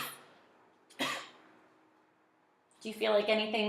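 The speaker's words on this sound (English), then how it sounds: "That time I noticed you had a cough." A single short cough at close range in a quiet room during a clinical swallowing assessment, followed after a pause by a voice speaking.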